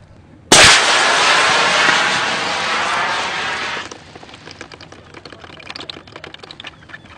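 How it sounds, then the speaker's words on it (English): A Pains Wessex rocket line thrower fires with a sudden loud blast, followed by a steady roaring hiss as the rocket and line pay out for about three seconds, then a fading rattle and crackle. "Aim the line thrower over the top of the target and be prepared for recoil. Turn the grip to the left or to the right and fire."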